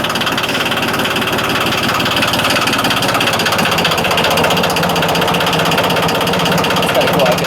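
A fully restored 1989 Yanmar 2220D tractor's diesel engine idles close by, a loud, steady, rapid chugging with a constant mechanical rattle that holds even throughout.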